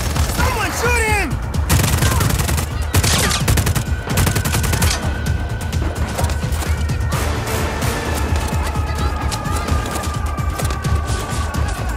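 Dense rapid gunfire rattles in the Just Cause 4 video game on PS5, with bursts and booms over a continuous battle din, while characters shout.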